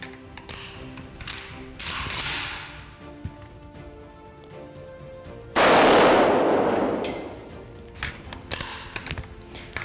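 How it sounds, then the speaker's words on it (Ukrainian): A single loud rifle shot cracks out and rings off, with quieter mechanical clicks and handling noises before and after. "Ну що, пробуємо робити перший постріл?"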